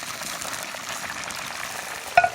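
Oil bubbles and crackles steadily as chicken for kkanpunggi deep-fries, with a brief clatter of utensils toward the end.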